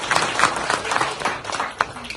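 A crowd at a farming seminar breaks into a short burst of clapping, dense and close, lasting only a couple of seconds.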